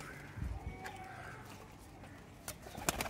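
Several pigeons in a Lahore loft give low, soft coos amid quiet rustling, with a few sharper clicks and knocks near the end, fairly faint overall and without talk.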